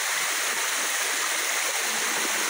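Busay Falls, a waterfall, pours in a steady, dense broadband rush close by, continuous and unbroken with no voices over it.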